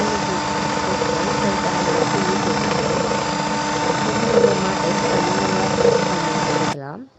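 An electric mixer beats a chiffon cupcake batter with sugar toward stiff peaks, whirring steadily and close with a slight rattle, then cutting off abruptly at the end.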